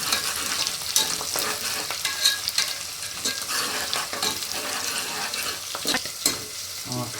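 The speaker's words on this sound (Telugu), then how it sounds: "పచ్చిమిర్చి వేసుకొని ఇలా కలుపుకోండి." Onions and green chillies fry in oil while a spoon stirs them, giving close, continuous sizzling crackle broken by frequent scraping clatter against the pan, for mutton kheema curry.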